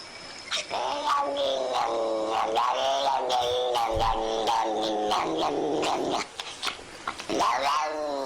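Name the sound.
cat making weird growling noises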